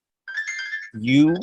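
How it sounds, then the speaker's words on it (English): A mobile phone ringtone plays, a steady electronic tone that shifts into a brief, rising melodic phrase. It is loud and close and heard alone. "sorry, that is my phone ringing"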